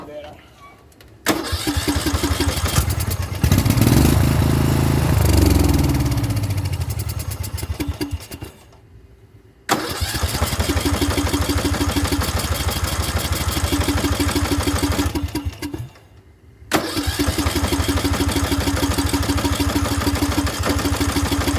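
A Poulan Pro / Murray small engine, just cleared of water in its fuel and with carburetor trouble, is cranked and catches, then runs steadily and loudly up close, cutting out twice briefly before restarting; a voice is heard near the start.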